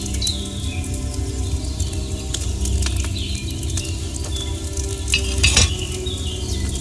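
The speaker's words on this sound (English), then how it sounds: "Hear that bubbling? It's boiling." Wine bubbles in a cauldron set over a flame in Kingdom Come: Deliverance II, a steady close simmer of fizzing, popping bubbles with faint clinks and crackles over a low hum.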